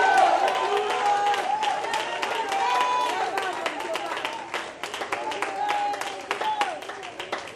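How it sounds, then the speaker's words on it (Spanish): A church congregation claps and cheers in a sustained burst of applause, with voices and shouts mixed through the crowd noise. "dale un gran aplauso y un grito de júbilo"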